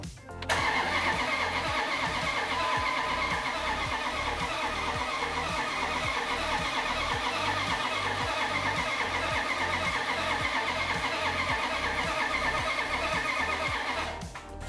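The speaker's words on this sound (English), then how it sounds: "let's go ahead and crank the engine" A Hemi engine turning over steadily on the starter motor without catching, a rapid chugging rhythm lasting about fourteen seconds, close and loud.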